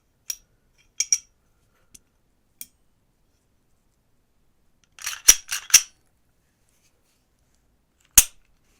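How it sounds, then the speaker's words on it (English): Parts of a PSA Dagger pistol are fitted together, barrel and guide rod included, giving sharp metallic clicks and snaps: a few isolated ticks, then a quick cluster of louder clacks, and one final crisp snap, close and with no talking. "So let's put the gun together."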